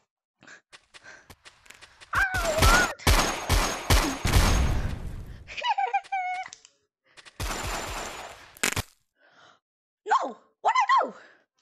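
Video game gunfire rattles in several dense rapid-fire bursts, with short gaps and odd squeaky, chirping effects in between, loud and close.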